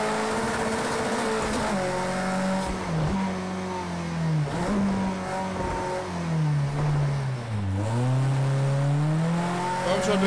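A race-car engine, the Ford RS200 on the Nordschleife in Project CARS 2, revs loudly and continuously, its pitch climbing and dropping repeatedly through gear changes, close and dominant throughout.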